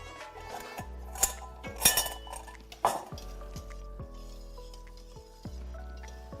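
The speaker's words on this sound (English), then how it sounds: "take your Gruyere with the cornstarch and add that and whisk that until it's melted" Grated Gruyere and cornstarch whisked into a simmering potato onion soup in a pot, with irregular metallic clinks and knocks of the whisk against the pot's sides over a quiet bubbling background, close up and without voices.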